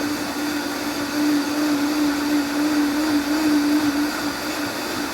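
A blender grinds hot pepper puree for hot sauce, its motor holding a loud, steady, high whine throughout with a slight swell in the middle, no talk over it.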